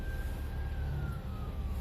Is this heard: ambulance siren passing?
yes